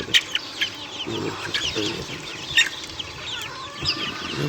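Pet chicks and chickens in a small home setup cluck and cheep close by, with short, uneven bursts of peeping and clucking that rise and fall over a steady, low background.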